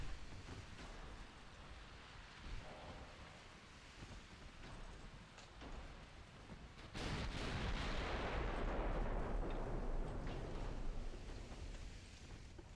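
Naval guns fire in a warship video game with muffled booms, then a heavy blast at about seven seconds gives way to a sustained roaring wash of noise, all fairly faint.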